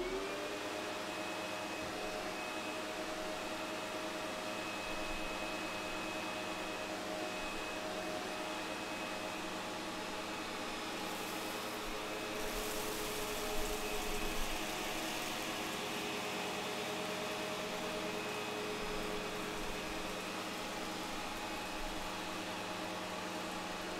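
A Windsor Karcher Sensor XP18 commercial upright vacuum cleaner runs steadily close by, giving a continuous motor whine and airflow roar with a brief shift in tone partway through, and no talking over it.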